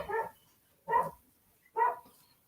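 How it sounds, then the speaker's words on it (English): Dogs bark outdoors at a moderate distance, three separate woofs spaced evenly apart, with quiet gaps between them and no talking. "what are the dogs going off about?"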